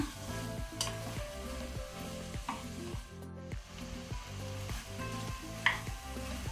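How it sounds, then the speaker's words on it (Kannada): Vegetables for pav bhaji, including beetroot, fry on a high flame with a quiet, steady sizzle, stirred continuously in an even, repeating rhythm. "ಕಂಟಿನ್ಯೂಸ್ ಮಿಕ್ಸ್ ಮಾಡ್ತಾ ಮಾಡ್ತಾ ಹೈ ಫ್ಲೇಮಲ್ಲಿ ಸ್ವಲ್ಪ ಫ್ರೈ ಮಾಡುವ."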